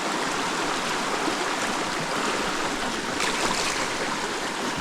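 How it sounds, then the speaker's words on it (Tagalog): Strong river current at Pagsanjan Falls in Laguna, a steady broadband rush of flowing water that stays loud and even throughout, with no talk. "Lakas ang agos"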